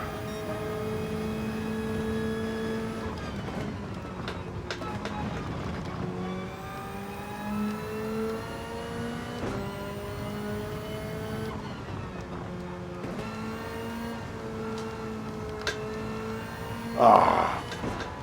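Race car engines roar through a Gran Turismo 7 video game race, steady and loud with shifting pitch as gears change, including a brief louder burst near the end; a faint voice may be present.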